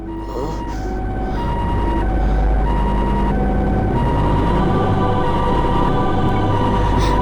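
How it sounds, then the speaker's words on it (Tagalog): An ambulance siren in Sakura School Simulator wails loudly and continuously, rising and falling over a low rumble, with no talk. "Buti naman may ambulansya na!"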